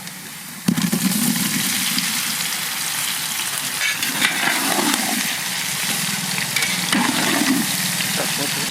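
Boiled potatoes drop into a pot of mutton curry at a Bengali village cooking setup, followed by a loud, steady sizzle and bubbling that continues close-up throughout.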